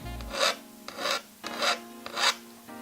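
A hand file rasps along the bevelled edge of a copper intaglio printing plate in four steady strokes, each a soft scraping burst with short pauses between, close and moderately quiet.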